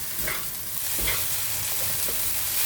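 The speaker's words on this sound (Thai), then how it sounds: "ผัดอีกแป๊บนึงจากสุกแล้วนะคะ" Singapore-style rice noodles are stir-fried in a pan, a continuous close sizzle with a few soft scraping strokes of a spatula, no speech.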